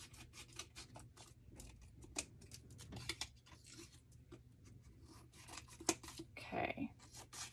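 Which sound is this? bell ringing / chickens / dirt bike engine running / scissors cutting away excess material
scissors cutting away excess material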